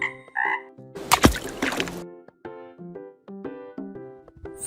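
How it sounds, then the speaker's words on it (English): A frog croaks repeatedly in close, clear pulses, broken midway by a short burst of splashing or rustling noise before the croaking carries on. "Frog."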